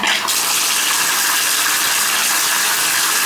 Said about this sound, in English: So when you hit the plunger, the water don't come up, right? It goes down.